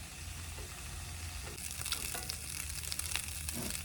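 Onions fry in a pan with a soft, continuous sizzle. It is fairly faint and close, with a few light crackles rising toward the end and no voices.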